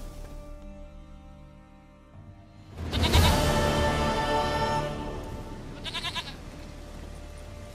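A goat in the video game The Witcher 3: Wild Hunt lets out a loud, wavering bleat after a quiet stretch, followed by a second shorter bleat a few seconds later.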